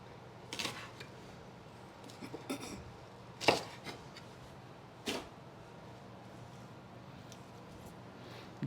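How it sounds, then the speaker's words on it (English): A knife chops an onion on a board for low-sodium turkey chili. A few sparse, faint cuts are separated by quiet pauses, with no talking. "Just cut up the onion as small as you want it."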